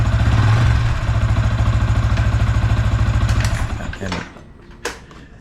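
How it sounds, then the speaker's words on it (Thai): A motorcycle engine idles with a steady, fast-pulsing thump, then revs briefly before dropping off and cutting back, close and loud, while someone talks over it. "เครื่องยนต์จะเร่งหน่อย เดี๋ยวพอเร่ง"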